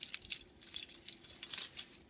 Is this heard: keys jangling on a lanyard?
yes